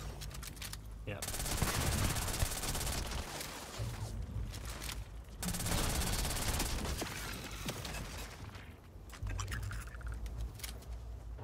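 Rapid automatic gunfire in the space game Starfield comes in several sustained bursts separated by short pauses, loud and close.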